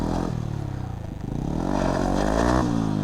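A motorbike climbs a steep rough road at Zojila Pass, its engine loud and close, labouring and rising in pitch as it revs up the slope, with rattling and scraping under the steady roar.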